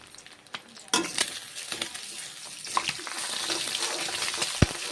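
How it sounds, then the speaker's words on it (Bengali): Two eggs sizzle and crackle steadily in a hot pan while being fried for a cabbage and egg dish, with occasional scraping stirs and a brief clink near the end; no one speaks. "ডিমগুলো ভেজে নিচ্ছি এই যে দেখুন ডিমগুলো ভেজে নিয়ে অন্য পাত্রে রেখে দেবো"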